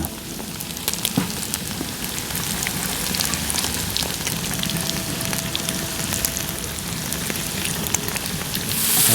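Chopped onion frying in a hot pan for bigos, a steady loud sizzle and crackle that keeps going without a break, close up and heard alone.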